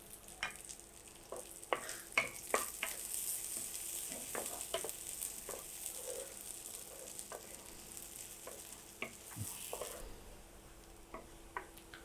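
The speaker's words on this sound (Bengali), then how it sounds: "রসুন আর পেঁয়াজটাকে আমি ভেজে নিয়েছি, দেখেন এমন কালার করে ভেজেছি, এর থেকে বেশি ভাজবেন না।" Chopped garlic and onion fry gently in a pan, giving a soft steady sizzle broken by scattered ticks and scrapes from stirring. The sound is quiet and close, with no voices.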